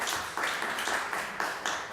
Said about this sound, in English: I've asked you to please hold the applause, please.